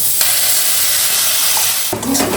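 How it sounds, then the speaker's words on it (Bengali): Black cumin seeds and tomato hit hot oil in a pan, a loud, steady hissing sizzle close by that swells briefly near the end. "তেলের মধ্যে দিয়ে দেবো কালো জিরে টমেটো"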